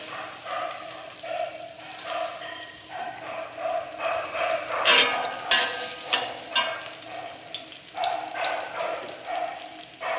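Onion fries in hot oil, a soft crackling sizzle broken by stirring clatters and bursts, heard up close and fairly quiet.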